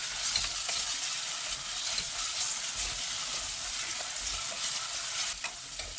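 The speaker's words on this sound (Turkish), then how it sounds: "Ve kavurmaya devam ediyorum." Tomato paste sautéing in a pan with onions, a dense continuous sizzle and crackle with soft stirring scrapes, close and steady with no talking.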